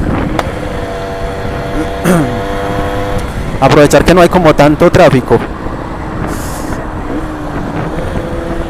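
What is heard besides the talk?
motorcycle engine revving while riding, carburetor changed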